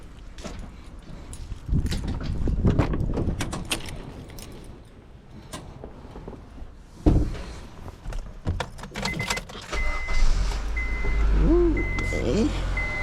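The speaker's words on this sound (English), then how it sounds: "Alright, let's start the car." A 2008 Honda Civic cranks and starts after a power steering pump replacement, then idles with a steady low rumble and a whining tone, amid clanks, keys and shop noise while people talk nearby.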